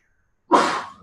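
A single abrupt, close human sneeze bursts out after a moment of silence, then trails off quickly.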